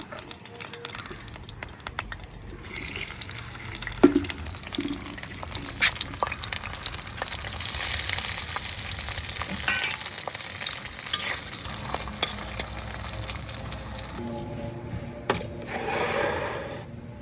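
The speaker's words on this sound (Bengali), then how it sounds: "তেল গরম হয়ে গেছে, এখন মাছগুলো আমি ভালো করে ভেজে নেব" Fresh fish full of roe frying in hot oil, a moderate continuous sizzle and crackle with occasional clinks and a few faint background voices.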